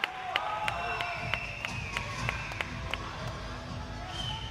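Sri Lankan fans fill the arena before an Asian U22 and youth boxing bout, a steady crowd roar punctuated by sharp claps and taps, with a commentator talking over it.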